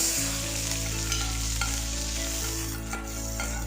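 Mustard seeds, chana dal, crushed garlic and curry leaves fry in hot oil with a steady close sizzle, a few light pops and stirring scrapes. A low steady hum sits underneath, and no one speaks.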